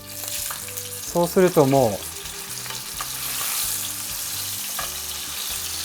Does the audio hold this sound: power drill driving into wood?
no